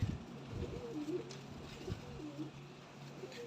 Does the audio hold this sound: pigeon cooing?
yes